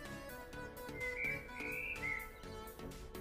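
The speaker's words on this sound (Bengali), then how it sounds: "পাখির ডাক আপনাদেরকে শোনাচ্ছি," Birds in a home vegetable garden chirp and whistle steadily, and a higher warbling call stands out over the ongoing chorus.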